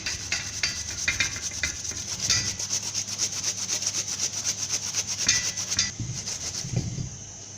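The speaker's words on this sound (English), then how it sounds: "You can either blend it or grate it with a grater" Ginger, garlic and nutmeg grated by hand on a kitchen grater for a vegetable stew, a steady close rasping scrape repeated in quick strokes with no talking.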